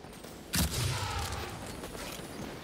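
A grenade launcher fires in the Destiny 2 video game, one loud, sharp boom followed by a rumbling tail that fades slowly, with no voices over it.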